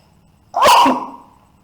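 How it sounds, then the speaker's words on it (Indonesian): A single loud human sneeze bursts out sharply and fades over about a second, alone against a quiet background. "Mohon maaf, lagi bersin ini."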